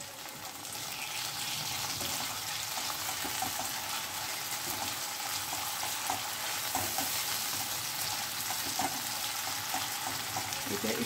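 Chicken marinated in vinegar and soy sauce fries in a pan, giving an even, continuous hiss of sizzling oil, moderately quiet and close, with no talking.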